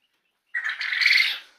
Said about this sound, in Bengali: তো এটা হচ্ছে জাপানি কোয়েল, আমার কাছে পাবেন আপনারা জাপানি কোয়েল।